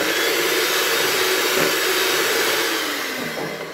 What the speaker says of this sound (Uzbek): Endi bularni yaxshi bir aralashtirma.